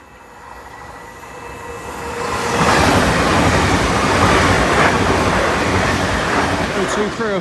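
A train rumbles past at Grove Road level crossing, growing louder after a couple of seconds into a steady, broad roar of wheels and carriages close by.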